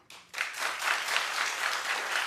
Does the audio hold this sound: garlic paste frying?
no